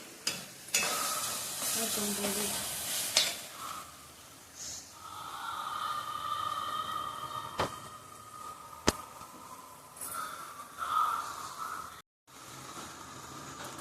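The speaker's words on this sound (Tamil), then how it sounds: "தக்காளி வெங்காயம் நல்லா வதங்கிடுச்சுங்க." Tomatoes and onions sautéing in a pan, a hissing sizzle with intermittent scraping stirs, fairly quiet and close, with a few sharp knocks and brief gaps.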